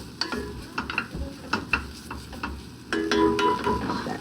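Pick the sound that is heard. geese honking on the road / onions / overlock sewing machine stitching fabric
onions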